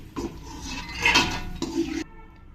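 A brief scrape and clatter of a metal pot and utensil as roasted snack mixture with oil is shifted into another vessel, close and moderately loud.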